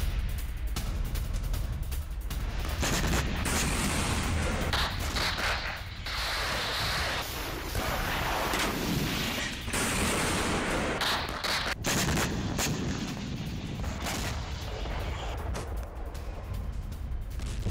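Dense, continuous gunfire and heavy blasts during a Russian army attack on Ukrainian positions near Mykolaiv, a loud chaotic roar of overlapping shots and explosions with no voices.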